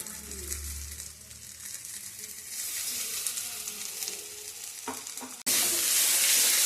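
Ginger garlic paste frying in oil with green and dried chillies and cumin, a close, loud continuous sizzle with stirring scrapes, surging suddenly into a louder hissing burst near the end, with no talking.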